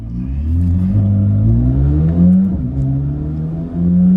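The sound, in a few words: Corvette C8 Z06 driving off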